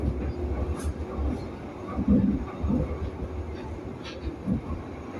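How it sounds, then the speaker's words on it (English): Glasgow subway train running into Govan station, a low rumbling ride with rattles and a few sharp clanks, moderately loud and steady, with faint voices now and then. "Govan is the main station on the Glasgow subway and we're just about to arrive at that station now"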